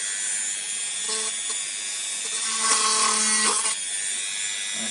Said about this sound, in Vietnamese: khoan thử các bạn xem